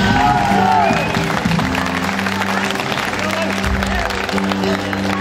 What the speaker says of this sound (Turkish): teşkilat başkanıma ve güzel ekip arkadaşlarına canı gönülden bir alkış rica